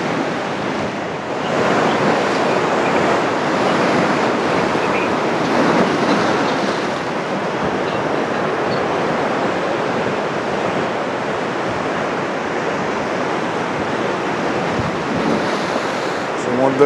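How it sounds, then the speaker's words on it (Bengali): Sea waves roar steadily onto the beach at Mandarmani at high tide, a loud, continuous wash of surf that swells and recedes for the whole stretch, with no one talking over it. "সমুদ্রের গর্জনটা শুনেছো? সমুদ্রের গর্জনটা শোনো।"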